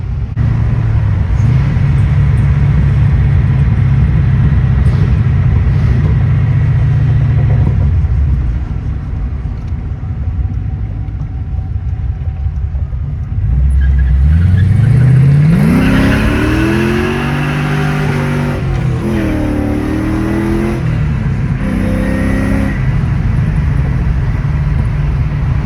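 An LSX V8-swapped BMW E36 rumbles at idle, then revs hard through a pull. The engine note climbs steeply, shifts, and climbs again with a loud, close, rising roar, and no one speaks.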